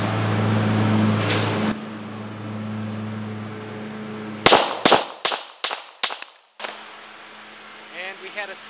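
A CZ-75B 9mm pistol loaded with .38 SWC bullets fires a rapid string of five loud, sharp shots outdoors, cutting through a steady low hum, then a brief quieter mechanical sound follows.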